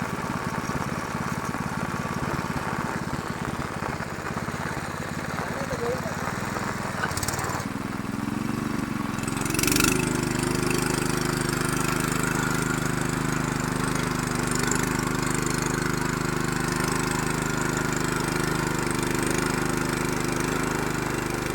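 A farm machine's engine drones continuously at steady volume while working a flooded paddy field during rice transplanting, its tone shifting briefly partway through before settling into an even, loud hum.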